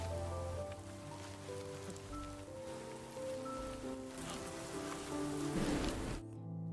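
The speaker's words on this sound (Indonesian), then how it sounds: "saat malam hari hujan pun turun dengan deras" Heavy rain falls at night in a forest, a steady hiss of drops hitting surfaces under a soft tonal backing, then cutting off abruptly near the end.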